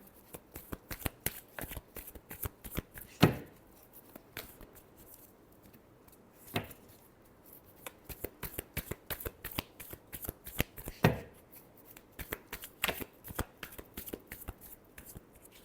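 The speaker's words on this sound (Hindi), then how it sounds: "last shuffle" Tarot cards shuffled by hand in a long run of rapid riffling flutters with a few louder snaps and bridging bursts, close and quiet, with no talk.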